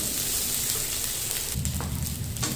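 Mixed fried rice, restaurant-style Chinese, hisses in a hot pan throughout, a dense continuous sizzle that thickens partway as it is stirred, with no one talking.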